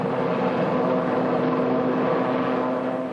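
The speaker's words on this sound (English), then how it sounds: "a Lynx helicopter from 656 Squadron Army Air Corps at Nether Avon" A Lynx helicopter of the Army Air Corps, 656 Squadron, at Netheravon, with a loud, steady droning roar of engine and rotors holding level throughout, a constant tonal hum running underneath.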